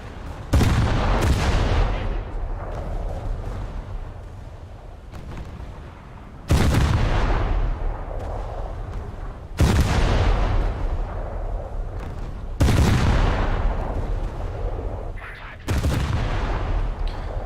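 Heavy naval guns fire from a destroyer in a warship combat game, five or six booming salvos spaced a few seconds apart, each with a long rumbling decay, over a constant engine and sea drone.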